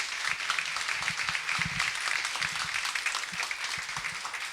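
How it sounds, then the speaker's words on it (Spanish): Audience applause for a speaker at a talk on generative AI and digital transformation: a steady wash of clapping from a room of listeners, moderately loud and continuous throughout, with no one speaking over it. "aplauso para el doctor Daniel Santiago? Luna."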